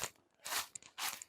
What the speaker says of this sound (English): I'm hearing the right types of crunching sounds